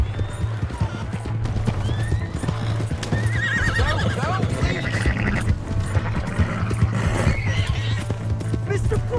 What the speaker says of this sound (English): That's my horse!